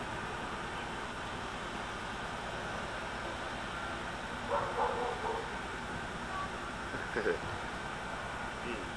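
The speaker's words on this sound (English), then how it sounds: "That's a cute poodle." A poodle barks and yips faintly at a distance in a few brief bursts, heard outdoors on a 1984 air force base housing area over a steady background hum.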